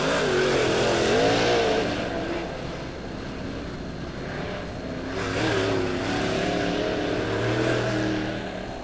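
Race cars finish a heat race at Lebanon Midway Speedway, dirt-track stock cars roaring loudly and continuously. The engine pitch rises and falls as cars pass and accelerate.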